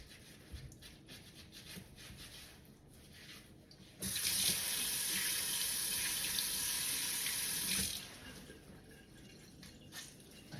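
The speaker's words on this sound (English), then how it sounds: "just going to simply take my towel and scrub those potatoes really well." Sink water runs hard for about four seconds while potatoes are scrubbed with a towel, preceded and followed by quieter kitchen rustling and faint rubbing.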